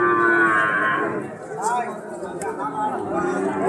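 A local-breed calf moos at a busy cattle market, giving a few short rising and falling bellows close by over a steady background of crowd chatter and voices.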